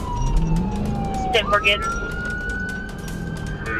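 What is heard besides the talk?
police car sirens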